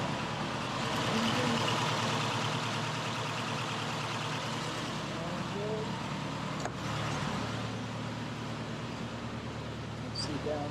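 An old car engine runs at a steady, loud idle that fills the whole stretch, with a constant low rumble and no clear start or shutdown.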